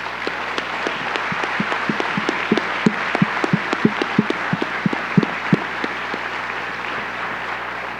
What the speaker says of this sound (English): I think we could do another round of applause.